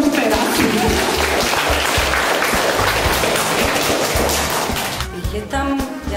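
An audience at a Slovak cultural event applauds, a dense, steady clatter of many hands clapping that carries on for several seconds and then thins out as it fades.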